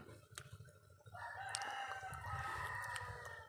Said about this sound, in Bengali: বাড়িতে মুরগি আছে, ভীষণ ডাকছে কক কক কক করে।